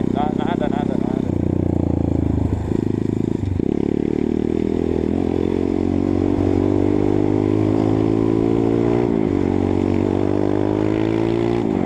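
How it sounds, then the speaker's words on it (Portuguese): A Honda CRF 230 dirt bike engine roars loud and close, its aftermarket exhaust rising and falling in pitch as the throttle changes, with a voice heard under the noise. "Com a CRF, com esse escape, mano, não dá pra ouvir nada dos lados"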